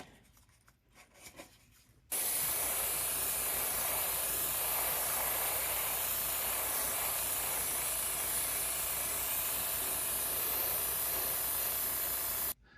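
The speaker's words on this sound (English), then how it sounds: "We're just going to spray down on the top of the command structure of the ship" Steady, loud airbrush or spray-can hiss while paint goes onto an AMT Klingon Battle Cruiser model kit. The spray runs continuously for about ten seconds after a short quieter lead-in, then cuts off.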